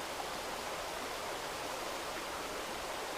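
A serene wilderness river flows steadily in the Cranberry Wilderness, a constant broadband rush of water with no break, alone and moderately quiet.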